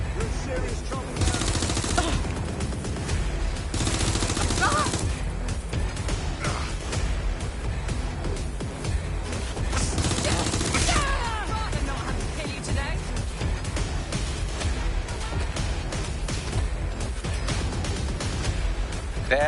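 Gunfire from the video game Watch Dogs, dense bursts of shots rattling through a busy, loud mix with game music and voices talking over it throughout.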